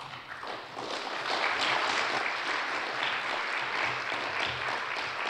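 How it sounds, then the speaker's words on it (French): Audience applause fills a hall after guests are invited up to join a panel discussion, a dense, steady clapping that swells within the first second and holds loud and even to the end. "je vous demande d'applaudir très fort"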